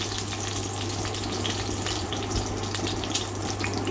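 Whole cumin seeds sizzle steadily in hot ghee with a continuous, close, fizzing crackle and no voices.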